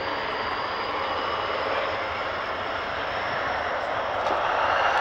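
A Hawker Hunter jet takes off at an airshow at Kemble Airfield, its engine a loud, steady broadband roar that holds constant and swells slightly near the end, with no voices over it.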